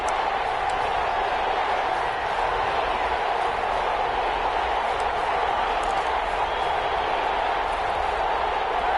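A stadium crowd in a football video game roars steadily through a tense third-down moment, a dense, constant wash of cheering with no breaks and no clear words.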